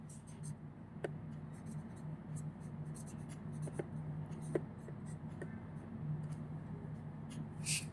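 A pen scratches out an algebra question on paper in short strokes and taps, close and fairly quiet, with a low steady hum underneath.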